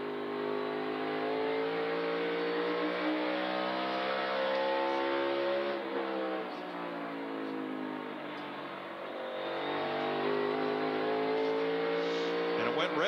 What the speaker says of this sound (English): the car is just not accelerating off the corner like Denny Hamlin's car did